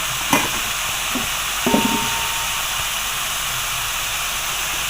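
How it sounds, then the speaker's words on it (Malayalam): Prawns frying in a pan, a steady loud sizzle and hiss throughout with a couple of brief clinks or stirring knocks near the start, no voices. "ഫ്രൈ ചെയ്തെടുക്കുകയാണ് ഇന്നിപ്പോൾ കൊഞ്ച് ഫ്രൈ ആണെന്ന്"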